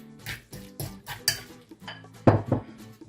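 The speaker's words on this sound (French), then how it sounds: "Et on mélange pour éviter que l'avocat ne noircisse." A spoon stirs avocado sauce with lemon juice and garlic in a bowl, making a series of close, rhythmic scraping clinks, about ten strokes over three seconds.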